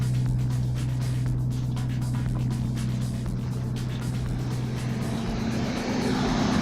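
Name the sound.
Toyota 7M-GTE engine running after first start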